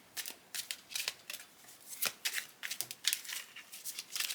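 A deck of tarot cards being shuffled by hand, soft rapid riffles and brushing flicks repeating close by at a quiet level.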